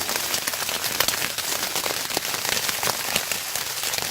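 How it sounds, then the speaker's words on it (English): Steady rain falls outside a tent in the early morning before dawn, a dense, continuous patter drumming close on the fabric with no voices. "And the rain has picked up a little bit."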